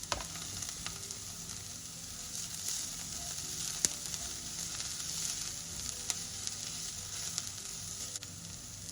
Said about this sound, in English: I'm gonna add the garlic and just get that all stirred in there.